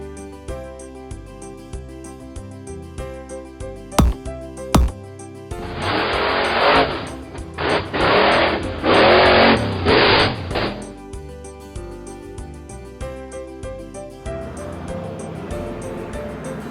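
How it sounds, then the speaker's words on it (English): A cartoon monster truck's engine revs and roars in loud rough bursts for about five seconds over cheerful background music in a toddlers' alphabet learning video. "Monster truck."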